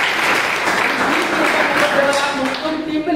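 Loud, continuous applause rises from an audience at a business plan presentation, a thick wash of clapping with a few cheers or voices mixed in, holding at full strength for the whole stretch.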